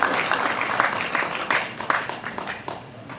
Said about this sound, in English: I'd like to give a big round of applause for none other than Steve Cunningham